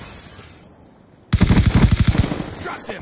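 Rapid-fire gunshots from a Remington in a video game, modded with a jitter exploit for maximum fire rate; after a quiet lead-in, a loud, dense burst of about a dozen closely spaced shots runs for over a second, then tails off.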